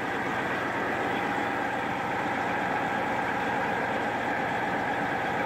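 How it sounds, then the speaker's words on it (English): A fire pump engine on an apparatus running steadily as it automatically raises its RPM to hold an intake set point, a loud continuous mechanical drone with no voices. "The engine's automatically coming up."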